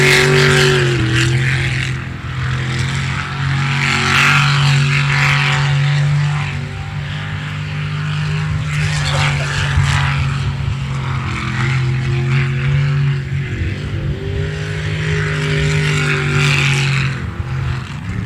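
Racing boat engines roar loudly and continuously during an ASBR Stihl Pro Racing qualifying session, a sustained droning whine with shifting pitch that swells and eases without letup and with no speech over it.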